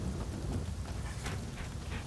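Steady rain with a low thunder rumble in a stormy scene in Rise of the Ronin (Asakusa, PS5), a constant wash of rainfall over deep rolling noise, no speech.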